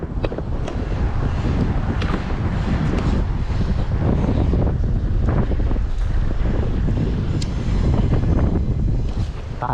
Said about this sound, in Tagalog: lumakas pa hangin, oh.